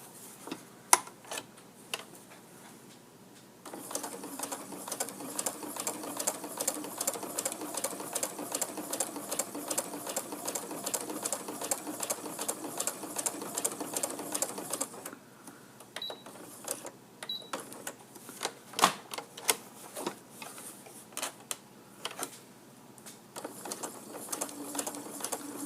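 A sewing machine stitches appliqué onto a quilt, running in a steady rapid mechanical patter for about eleven seconds, then breaking into shorter bursts and isolated stitches with small clicks in between.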